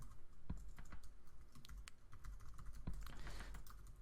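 Typing on a computer keyboard while composing an email, a quick irregular run of soft key clicks with a few sharper taps, close and alone.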